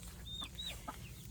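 Backyard chickens give a few soft, faint clucks and short squawks over quiet outdoor background, brief and close but low in level.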